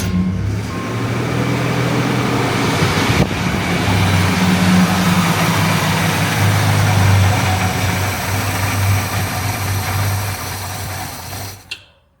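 An old Jeep engine, running poorly, idles steadily with its choke propped open, a loud, close, even mid-low rumble lasting about eleven seconds before cutting off abruptly near the end.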